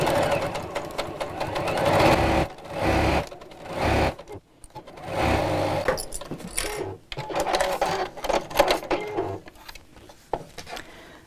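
A domestic sewing machine fitted with a free-motion darning foot stitches a festive zipped pouch, whirring in loud uneven bursts separated by short pauses, close up and with no talking over it.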